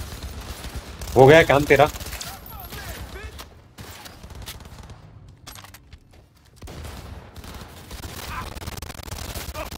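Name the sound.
shotgun gunfire in the video game Cyberpunk 2077 Phantom Liberty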